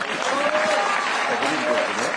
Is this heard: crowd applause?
yes